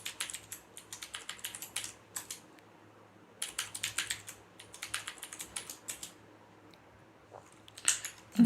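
Keystrokes on a computer keyboard, rapid bursts of tapping with short pauses, close and clear over a quiet background hum while a password is entered during a Windows 11 setup.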